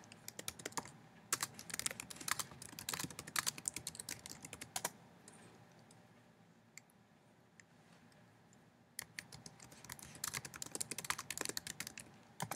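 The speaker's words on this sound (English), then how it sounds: "down here, I type in all of the stuff about me" Keys clatter on a computer keyboard while entering text onto a presentation slide in Google Slides, a steady run of close, quick clicks that stops for a few seconds of quiet before the rapid typing resumes.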